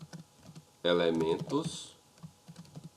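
Keys clack on a computer keyboard while code is entered in Sublime Text, light scattered taps near the mic that continue softly under and around a short burst of speech.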